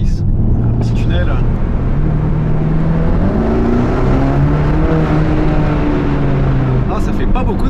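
Mercedes-AMG GT Black Series V8 cruising through a short tunnel, a smooth, loud, steady engine drone with a gently rising tone, enclosed and echoing, and no talking.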